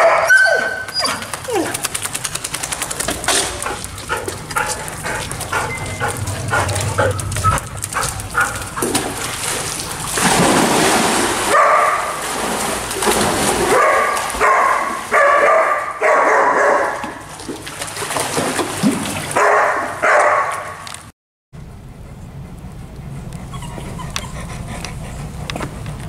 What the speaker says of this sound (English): Dogs! Dogs!